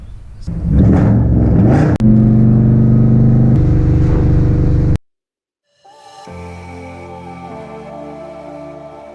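Ford Mustang GT S197 revving loudly up close for several seconds, cutting off abruptly, then after a short silence a lower steady engine drone resumes, with no talk.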